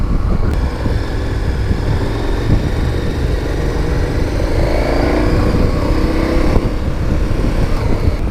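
A KTM Super Adventure 1290 motorcycle is being ridden, its steady engine drone and wind rush loud and continuous throughout with slight pitch rises as it accelerates.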